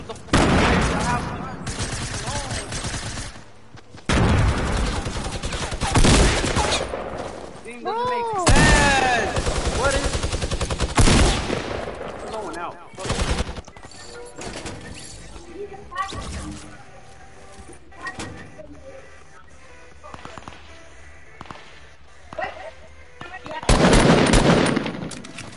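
Minigun fire in a video game arrives in long sustained bursts, loud and rattling, broken by pauses and mixed with game effects and voices talking.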